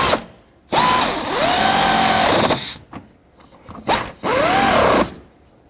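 A power tool snugs the two mounting nuts on a 2009-2014 Ford F-150 fender flare in two loud whirring bursts, each winding down in pitch, separated by a short pause and clicks.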